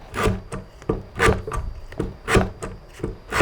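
Sandpaper pulled by hand across an acoustic guitar's wooden heel cap: rhythmic, close scratchy strokes, about eight pulls in quick succession, each a short rasping swell.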